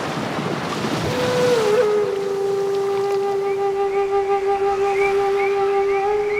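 Ocean surf washes steadily along the coast at Alappuzha, Kerala, a loud continuous roar with a held musical tone laid over it.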